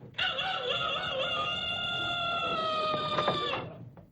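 A rooster crows once close up, a long loud cock-a-doodle-doo drawn out for several seconds before cutting off, with no voices.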